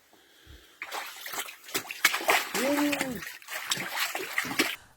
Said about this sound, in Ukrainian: окопи і бліндажі хлопців перетворилися у суцільну річку